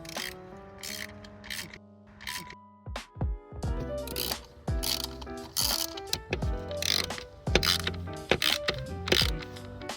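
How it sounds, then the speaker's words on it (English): Ratchet wrench loosening 8mm bolts on an engine bracket of a 2017-2025 Mazda CX-5, giving repeated close clicking ratchet strokes and metallic taps in short bursts, with no talk. "I'll be using my ratchet wrench for this."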